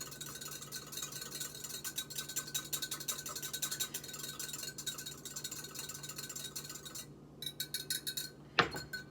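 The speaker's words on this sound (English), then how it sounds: "And then I'm gonna whisk that all together." Lemon juice, olive oil and apple cider vinegar whisked together in a bowl, giving a steady run of quick, light metallic ticks and scrapes for several seconds, with a sharper clink near the end.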